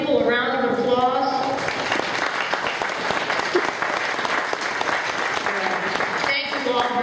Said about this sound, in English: Can we give these young people a round of applause?